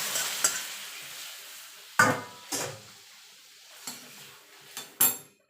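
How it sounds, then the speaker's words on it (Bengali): Lentils (dal) tipped into a hot pan for dal shukto and stirred with a utensil, giving a few sharp scraping and clattering bursts over a faint sizzle, with no one talking. "এবার ডালটা দিয়ে দেবো।"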